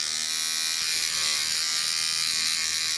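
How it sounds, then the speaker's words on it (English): A used electric toothbrush buzzes steadily against a Japanese white eggplant flower to shake loose pollen, a continuous close, bright high-pitched whine with no pauses. "I have this used electronic toothbrush to help with pollination."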